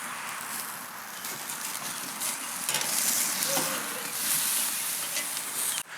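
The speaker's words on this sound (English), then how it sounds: "Check out the color on that steak searing away." A big one-bone prime rib steak searing on a barbecue grill, giving a loud, steady sizzle and hiss with a faint crackle that ends abruptly.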